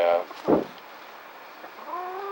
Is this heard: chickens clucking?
yes